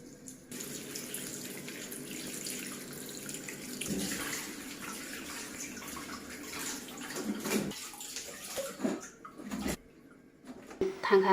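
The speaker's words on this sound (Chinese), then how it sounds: "采摘回来的青梅清洗干净。" Freshly picked green plums are washed in running water, a steady close splashing and trickling that turns into irregular sloshes and drips toward the end.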